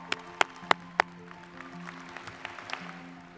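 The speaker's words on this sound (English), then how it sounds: "Graduates, give yourselves a round of applause." A few sharp, scattered claps from graduates at a Spring 2020 virtual graduation ceremony, four distinct hand claps in the first second, then faint room noise.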